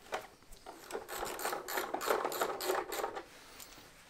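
Ratcheting socket wrench with a 10 mm socket driving screws into a diesel particulate filter being refitted near an oil sump, giving a fast run of rough clicking, ratcheting strokes that stays close and fairly loud for about three seconds, then fades.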